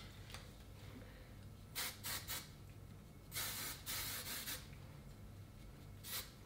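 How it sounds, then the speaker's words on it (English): Hairspray is sprayed onto freshly curled hair in several short hissing bursts of varying length over a faint background, close to the mic. "Just gonna put a bit of hairspray to this area."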